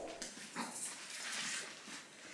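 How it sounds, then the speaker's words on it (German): Small dogs on a farm whimpering and yipping, high whines and short cries running continuously at close range with no talk. "Kleine Hunde. Sind sie nicht süß?"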